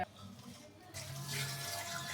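Plain tap water poured over fresh fish in a home kitchen before cutting, a short close splashing rush that starts softly and swells after about a second, with no talking.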